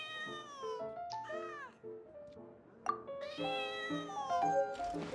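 A cat meows repeatedly in Genshin Impact, a string of close, bright, drawn-out mews with rising and falling pitch, some squeaky, over soft game background.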